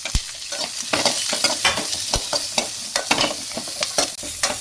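Onion, curry leaves and tomato sauté in a pan for a radish chutney, giving a close, steady sizzle broken by frequent spatula scrapes and taps.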